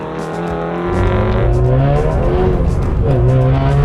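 A Subaru WRX rally car is thrown into a handbrake slide, its engine droning loud and close, then surging and revving higher as the rear wheels lock and the car rotates.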